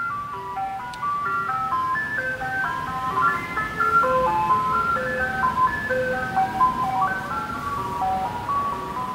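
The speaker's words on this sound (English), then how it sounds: "Ice cream truck's going by." An ice cream truck's tinkling jingle plays continuously at moderate distance over a low engine rumble as it passes by.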